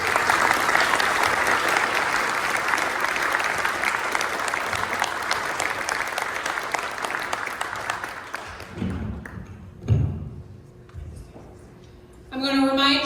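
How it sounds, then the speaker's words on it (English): An audience at an awards dinner gives sustained applause that fills the room for about nine seconds before fading, after which a voice speaks over the quieter room. "Can we give one more round of applause?"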